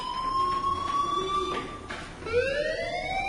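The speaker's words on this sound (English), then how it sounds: "do you hear that fire alarm?" A fire alarm in the video game Life Is Strange gives a steady electronic tone that shifts pitch partway through, sounding loud and continuous with no voices over it.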